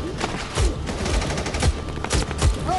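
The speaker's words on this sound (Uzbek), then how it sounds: "O'q uzing." Battle gunfire crackles in a dense, uneven fusillade, with repeated sharp reports and low booms overlapping at close range.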